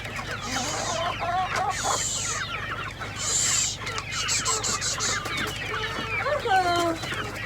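Chickens clucking close by in a yard, a run of short repeated clucks and squawks with a few sharper calls, fairly steady and moderately loud.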